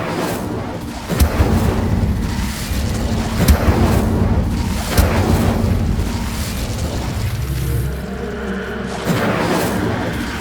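Incendio fire spell cast in Hogwarts Legacy, a series of loud booming bursts and whooshes repeating every second or two over a dense rumbling background.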